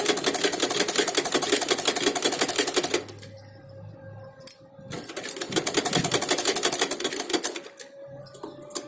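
Sewing machine stitching a blouse seam, with a steady rapid mechanical chatter for about three seconds, then quieter stop-start bursts of running stitches with pauses in between, close and fairly loud.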